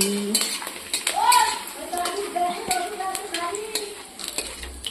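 Potato papad sizzles and crackles in hot oil as utensils clink and scrape against the pan, with a few faint squeaky tones.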